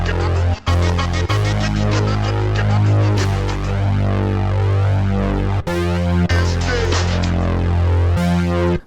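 An Analog Lab bass patch with a chorus chain plays under a sample, a thick, throbbing low-end line with steady rhythmic chord changes and a few brief dropouts, loud and continuous.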